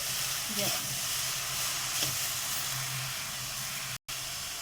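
Shredded cabbage for veg momos fries in a hot pan with a steady, broad sizzling hiss, close and even, with a brief dropout near the end.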